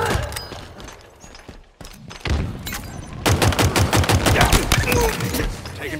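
Dense gunfire in Halo Infinite multiplayer: scattered shots at first, then a loud, sustained rapid burst of automatic fire for the last few seconds, close and harsh.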